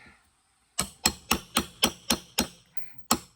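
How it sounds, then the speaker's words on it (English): A hammer strikes hard eight times in a steady rhythm while working a board loose from a house, each blow sharp and ringing, close by, with no talking. "Hammer in there a lot more."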